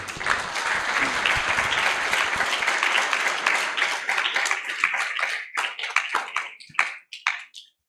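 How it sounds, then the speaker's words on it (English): A crowd applauds steadily, dense clapping that thins into scattered individual claps and dies away at the end. "Let's give another round of applause to Kanhai Gopal Prabhu for a wonderful class"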